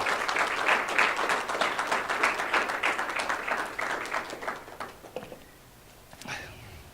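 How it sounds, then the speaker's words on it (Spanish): A church congregation at a Spanish-language service breaks into lively applause that holds for about five seconds, then thins to a few scattered claps before falling quiet. "Dale un fuerte aplauso al Señor."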